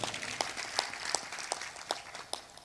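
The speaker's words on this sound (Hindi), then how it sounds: "ऐसी मरी मरई तालियां बजाओगे तो हमको भी 7 दिन में निपटा दोगे तुम।" A sparse, half-hearted audience claps at a devotional talk, with about a dozen scattered hand claps falling in an uneven, faint rhythm over a low background murmur.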